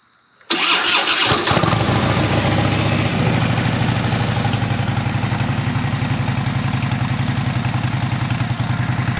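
A Harley-Davidson Dyna Switchback motorcycle engine cranks and fires up, then settles into a loud, steady, lumpy idle with a rapid rhythmic throb close by.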